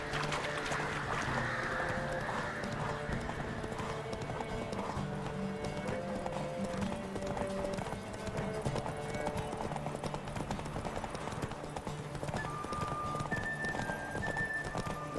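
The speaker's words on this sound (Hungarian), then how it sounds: "Romantikus egy lóverseny." Horses galloping in a race in the video game The Witcher 3, a steady dense clatter of hooves under game music and ambience, continuous and loud throughout.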